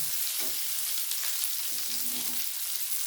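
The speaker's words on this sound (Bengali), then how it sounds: "দিয়ে আমি পেঁয়াজগুলোকে বেশ ভালো করে ভেজে নেব।" Chopped onions fry in a pan, a steady bright sizzle with faint stirring scrapes underneath, heard alone without talk.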